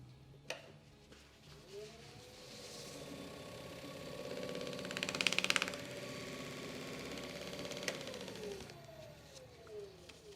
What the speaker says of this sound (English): I can turn the lathe on and run it about 12 to 1400